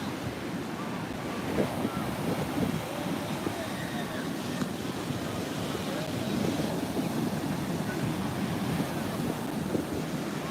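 Ocean waves breaking and washing on a sandy beach, a continuous rolling surf roar with wind buffeting the microphone, and a person talking faintly over it now and then.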